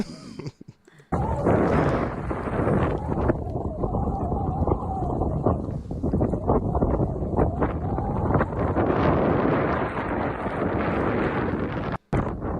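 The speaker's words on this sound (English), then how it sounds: "Man, it's windy." Strong wind buffets a microphone out at sea, a steady roaring rush with gusty swells that holds loud and constant for most of the stretch before cutting off briefly near the end.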